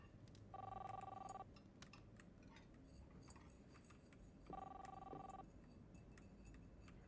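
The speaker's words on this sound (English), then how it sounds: "The phone's gonna ring." A telephone rings inside a video game, two separate bursts of a bright electronic bell tone, each about a second long, over a steady quiet background hum.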